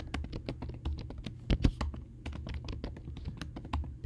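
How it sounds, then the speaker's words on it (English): Computer keyboard typed quickly as an email address is entered, a dense, rapid stream of close key taps with a couple of heavier thunks midway, alone without talk. "So just type in their email address"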